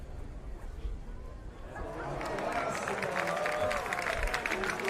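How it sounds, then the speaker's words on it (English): Stadium spectators at an athletics long jump meet in Košice break into rising applause and cheering, starting quietly and swelling into a broad, sustained roar of clapping over the last few seconds. "Big cheers from the crowd there."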